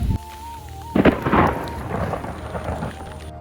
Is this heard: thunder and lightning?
yes